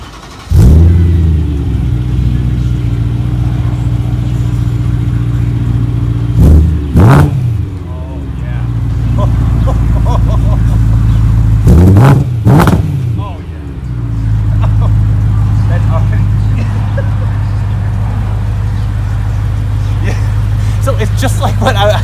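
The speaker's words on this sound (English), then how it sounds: "we're gonna go ahead and start up the E90 M3 with the test pipes installed" A BMW E90 M3 with Turner test pipes and the cats deleted starts up into a loud, deep idle, with several sharp revs spaced through the run before it settles back to a steady rumble, recorded close and without talk.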